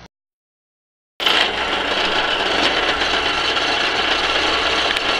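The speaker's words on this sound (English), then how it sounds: "I'm going to use a hole saw to cut these out." A steady, grinding power-drill whine with a harsh cutting rasp from a hole saw cutting through metal at slow speed, starting abruptly after a second of silence and running continuously at close range.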